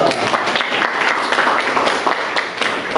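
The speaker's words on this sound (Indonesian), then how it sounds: "Ya, tepuk tangan dulu." Classroom applause during a lesson on computer network hardware, a brisk burst of many students clapping close by, loud and uneven, dipping briefly near the end.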